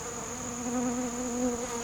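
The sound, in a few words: bees buzzing around sugar feeding plates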